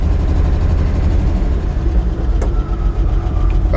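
A 1953 Chevrolet 5-window pickup's old engine running as the truck is shifted into reverse, a loud, steady low rumble close by with a few brief mechanical clicks, no talk.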